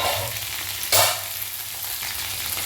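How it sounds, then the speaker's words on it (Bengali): Vegetables fry in a pan with a steady close sizzle, and one brief louder scrape and hiss as they are stirred; no talk. "আবার একটু নেড়ে দেবো সবজিটা"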